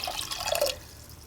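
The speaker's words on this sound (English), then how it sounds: "I'm going to add in about a cup of water as well." Water pours briefly into a bowl of dipping sauce for spring rolls, a short bubbly trickle with gurgling splashes that fades after under a second, no voices.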